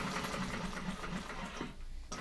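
A sewing machine stitches fabric in a sewing class, a close, steady whirring hum with a rapid mechanical pulse that slows and stops briefly near the end, heard alone.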